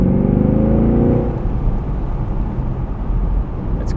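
A 2017 Chevrolet Camaro 2SS V8 with loud exhaust pulls hard with a rising drone for about a second, then settles into a steady, rumbling cruise. No one speaks.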